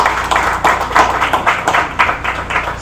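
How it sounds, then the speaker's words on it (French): A festival audience at a poetry launch event claps in a steady, rhythmic pattern, loud and close throughout, with no voices over it. "Ça c'est notre applaudissement avec conviction."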